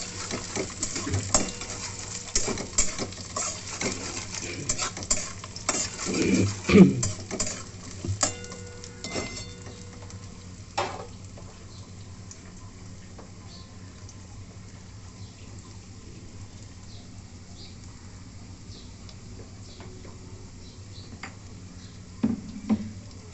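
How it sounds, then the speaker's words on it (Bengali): Shredded coconut fries in oil in a wok with a soft, steady sizzle, punctuated by spatula stirs and scraping clicks in the first half before settling into a quieter, even crackle. "এবার নারকেল কুচিয়ে রেখেছিলাম সেটা আমি ভেজে নিচ্ছি। লাল করে একটু ভেজে নেব।"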